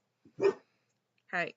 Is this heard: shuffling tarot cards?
no